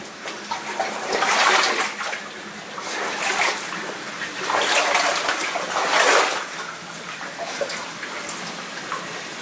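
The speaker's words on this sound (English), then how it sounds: "I can hear I hear a fair amount of rushing water" Rushing water near a deep pool along a rugged mountain creek, a steady broadband roar that swells and fades in waves, loud and close with no talking.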